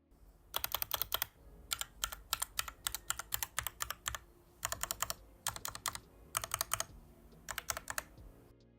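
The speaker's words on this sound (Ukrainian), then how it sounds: "Роль клавіатури виконує, а звук ви можете почути прямо зараз." Someone types on a computer keyboard at a desk, sending out rapid clattering keystrokes in bursts with short pauses between, close and clear with no talk.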